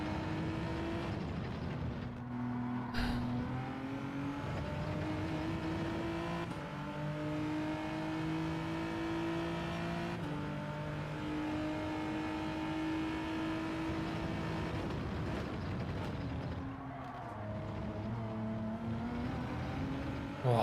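Porsche race car engine in Gran Turismo 7 revving and holding steady tones through gear changes, pitch rising and dropping across a long stretch of continuous driving with no talk.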